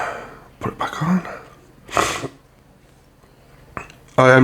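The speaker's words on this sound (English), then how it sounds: "I am really sorry that I keep sniffling." A person sniffles a few times at close range, with short nasal snorts and breathy bursts spaced by quiet gaps, ending in a brief spoken sound while working on Warhammer base terrain.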